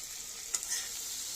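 Salted okra frying in a pan sizzles steadily while a spatula stirs it, with one or two quick scraping clicks in the middle.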